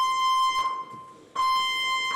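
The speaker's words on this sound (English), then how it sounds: "General alarm, fire alarm, yellow flashing light and an acoustic intermittent signal of a constant frequency." A ship's general alarm sounds a loud, steady single-pitched tone in intermittent bursts, cutting off briefly before resuming at the same level.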